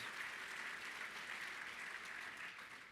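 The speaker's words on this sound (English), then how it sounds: "Please give him a round of applause." Sustained audience applause at a USBC convention annual meeting, a dense wash of many hands clapping at an even level, fairly distant, with no talking over it.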